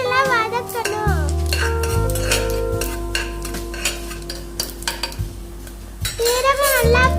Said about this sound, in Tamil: எண்ணெய் சூடானதுக்கு அப்புறம் போட்டுக்கணும். போட்டு நல்லா வதக்கணும்.